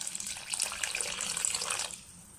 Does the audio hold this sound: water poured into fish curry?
yes